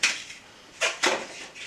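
Scissors cutting through cardboard egg carton holders for an Easter rainbow craft, giving a few sharp, close snips and crunches spaced apart across a quiet moment.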